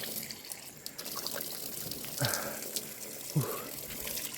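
A roadside tap trickles and splashes unevenly, with a couple of louder gushes as water is caught and drunk, under faint background voices.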